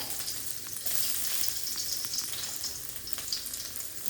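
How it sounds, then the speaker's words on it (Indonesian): Shallots sizzle and fry steadily in hot oil in a home kitchen, a continuous bright crackle with small pops throughout, with no talking. "Waktunya kita goreng bumbunya. Ini bawang merah."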